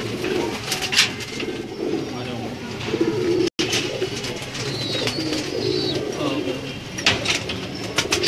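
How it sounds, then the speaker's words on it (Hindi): Slate-coloured Diamond-breed pigeons coo in a continuous low murmur at close range, with scattered chirps and rustling above them and a brief break midway, under steady ambient noise. "ये उनके स्लेटी कबूतर हैं, डायमंड के नाम से उनका ब्रीड है"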